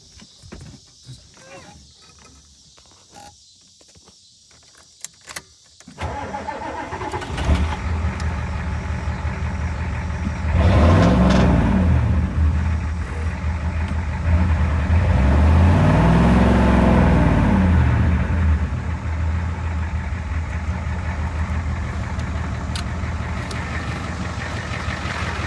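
A 1986 Ford F350 crew cab with a 6.9 diesel, four-speed and two-wheel drive, cranks and fires up, then settles into a loud, steady diesel idle that swells in two longer surges before evening out.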